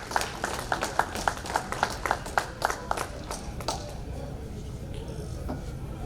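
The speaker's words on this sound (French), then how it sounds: "on applaudit pour la vie d'Armand Bertrand" An audience at a life celebration for Armand Bertrand claps in a rhythmic, fairly even beat, applause that is moderately loud and thins out toward the end over a background of crowd murmur.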